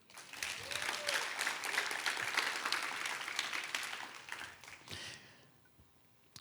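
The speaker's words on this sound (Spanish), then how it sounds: "Dale un aplauso a Él." A church audience breaks into broad applause that swells, holds for several seconds, then tapers off into a few scattered claps and quiet.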